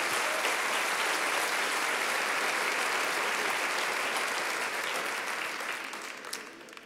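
A church congregation gives loud, sustained applause during a Spanish-language worship service, dense clapping filling the room for several seconds before tapering slightly at the end.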